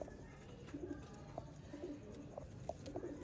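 The mother of a Batera pigeon coos softly and repeatedly nearby, with short rolling coos spaced irregularly over a quiet background.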